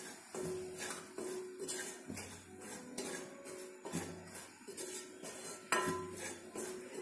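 A spoon scrapes and clinks around a metal pan while chicken masala powder is stirred into egg curry, in irregular close strokes and knocks, fairly quiet, with no talking.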